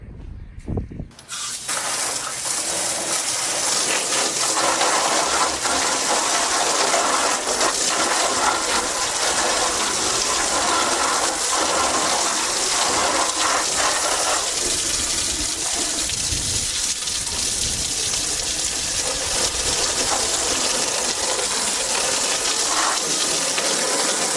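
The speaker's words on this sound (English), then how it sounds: "let's go ahead and spray it down with some water" Water sprays steadily onto the body of a 2016 GMC Sierra pickup truck, a loud, continuous hissing gush close by that runs unbroken after a brief start.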